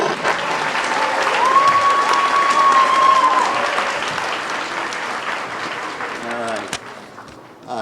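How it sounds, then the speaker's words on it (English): A crowd at a Veterans Day event applauds Master Sergeant Charles Blakely with steady, loud, sustained clapping that swells and then tapers, with a few voices mixed in. "so let's give him a round of applause"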